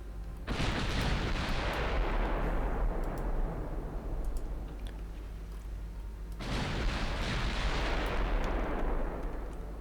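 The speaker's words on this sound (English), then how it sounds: "Taking fire in return from the Vengeance class battleships" Battleship gunfire in Ultimate Admiral Dreadnoughts, two loud, heavy cannon salvos several seconds apart, each a sharp blast trailing into a long rumbling decay.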